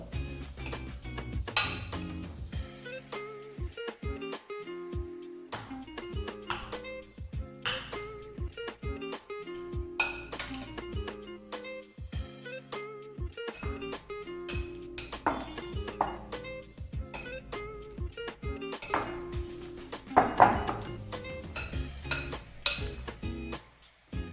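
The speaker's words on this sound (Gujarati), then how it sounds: "હવે તે માવાને મિક્સ કરો." A spoon clinks and scrapes against a pan as mashed potato filling for vada pav is stirred, with repeated metallic taps and scraping over steady background music.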